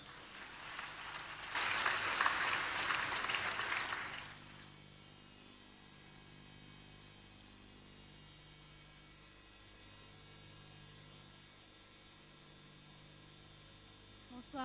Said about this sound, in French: je vais vous demander de continuer à applaudir et pour l'encourager